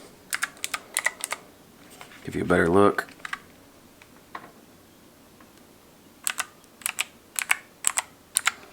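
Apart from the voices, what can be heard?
pressing keys and buttons on SteelSeries Apex 5 keyboard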